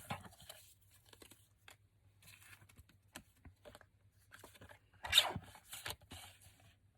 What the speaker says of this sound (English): Let me just cut this even first